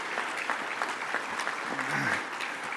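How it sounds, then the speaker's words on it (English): An audience applauds the city council at a State of the City address in Fredericton, with steady clapping throughout under a faint voice near the end. "give them a round of applause"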